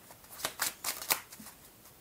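Tarot cards shuffled and drawn during a reading: a handful of crisp papery riffles and slaps in quick succession, close and fairly quiet, with no talking.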